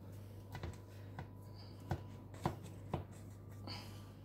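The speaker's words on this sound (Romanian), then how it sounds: "Vom începe să tăiem pentru a-i da forma." A knife slices down through six layers of homemade baklava pastry to the bottom of the tray, giving about five brief, crisp crackles spaced roughly half a second apart over a steady low hum.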